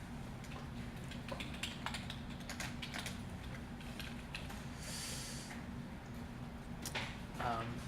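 Fingers tap a computer keyboard while entering a city into an online job application, making quick irregular clicks over a steady low hum, fairly quiet and close.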